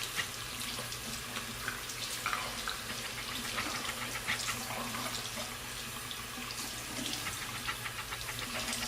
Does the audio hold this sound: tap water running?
yes